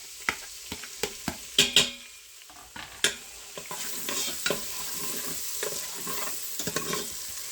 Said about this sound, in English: I'm going to go ahead and add in 1 large diced onion. And we're going to cook this until it is translucent.